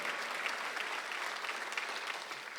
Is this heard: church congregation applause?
yes